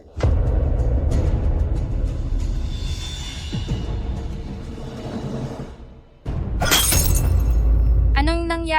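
Drinking glass shattering on a floor, a sharp bright crash that cuts in late and stands out loudly against a dense, rumbling dramatic soundtrack.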